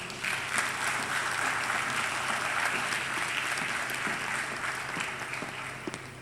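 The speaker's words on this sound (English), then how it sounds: "Can we please invite her to the podium with a round of applause?" Sustained applause from an audience at a graduation ceremony, a dense, even clapping that continues throughout without voices.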